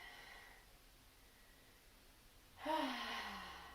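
A single deep, breathy exhale, heard close and soft, while holding a yoga warrior pose. It comes after a near-silent pause and trails off gently.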